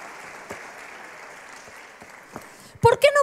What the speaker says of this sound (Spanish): Vamos a darle un aplauso a las tres que recibieron el regalito.